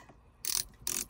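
Ratcheting knob of a LISEN magnetic air-vent phone holder being tightened, two short, close bursts of fast plastic clicks separated by a brief pause.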